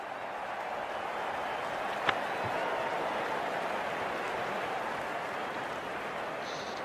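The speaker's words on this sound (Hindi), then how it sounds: "Wonderful 50 and the crowd applauds." A steady wash of crowd applause and cheering from the cricket video game Real Cricket 22, marking a batsman's fifty, fills the clip evenly, with a single sharp click partway through.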